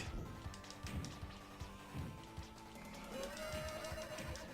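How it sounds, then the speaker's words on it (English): A horse neighs in a TMNT Cowabunga Collection video game, sounding odd and donkey-like, with clip-clop effects and game music, and a brief rising tone near the end. "That was a weird horse noise."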